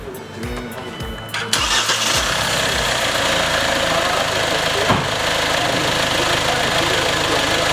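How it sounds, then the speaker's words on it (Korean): A Kia Carnival's engine is cranked and catches with a loud start, then settles into a steady, close idle rumble that carries on to the end, with a brief thump partway through. "시동 한번 보겠습니다"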